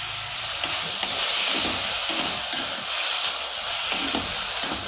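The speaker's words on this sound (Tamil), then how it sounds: "இது நல்லா கொஞ்சம் வதங்கட்டும்." Chopped tomatoes sauté in a hot pan for green peas sabzi, giving a steady, close sizzle and hiss with faint stirring scrapes throughout and no speech.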